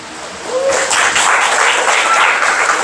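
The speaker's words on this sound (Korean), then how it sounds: "주님께 감사의 박수 올리십시오." A church congregation breaks into applause of thanks: the clapping swells in after a brief moment and holds as a dense, loud, close wash of many hands.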